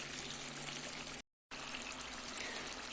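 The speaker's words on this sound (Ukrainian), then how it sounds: "чекаємо, як вода википить." Pot of water boiling hard while potatoes cook, a steady close bubbling and hissing that runs throughout, cut by a brief silent gap near the middle.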